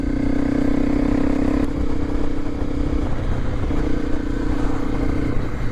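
A Honda CRF250L dual-sport motorcycle engine pulls steadily up a steep mountain road in the French Alps, a loud continuous mid-pitched drone with a brief shift in tone partway through, close and unbroken for the whole stretch.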